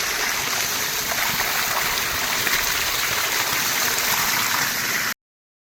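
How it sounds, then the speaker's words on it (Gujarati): A continuous rush of water pours from a farm tank and splashes close by, steady and loud, then cuts off abruptly near the end. "આ ટાંકી છે ટાંકીના ધોધ પડે"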